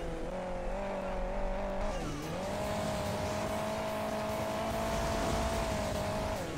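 Car engine in the mobile racing game Hill Climb Racing 2 drones at a steady high rev throughout, briefly dipping in pitch before climbing back and holding its tone, with no talk over it.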